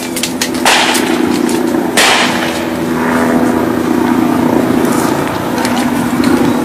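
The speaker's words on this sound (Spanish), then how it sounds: "Y ojo, es más de un helicóptero." Police helicopters hover over a street protest in Venezuela, their rotor drone steady and loud beneath sharp cracking pops and whip-like bangs close by, with no clear speech.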